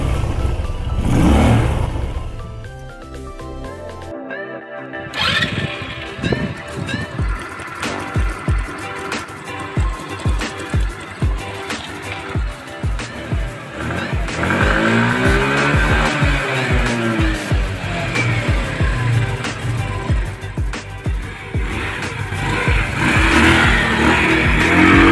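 A Rusi Gala or Passion SC125 motorcycle engine revving hard and accelerating, loud and close, with repeated throttle blips and rising pitch sweeps after a brief silent gap.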